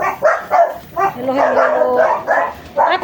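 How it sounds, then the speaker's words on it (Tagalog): Pet dogs bark close by in a burst of repeated barks and yips, loud and insistent, coming in an uneven rhythm with short pauses between them. "Ayan, mga alaga kong aso, ayan o."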